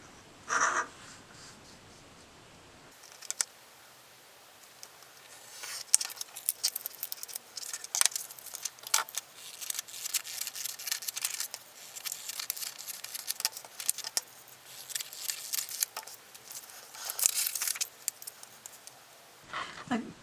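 Scissors trim close by in a run of crisp, irregular snips and rustles lasting many seconds, with short pauses between cuts.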